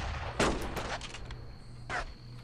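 Gunfire in the World War II shooter Brothers in Arms: Road to Hill 30, with sniper fire: a few sharp, separate shots crack out, one loud and near, another fainter later, over quiet background.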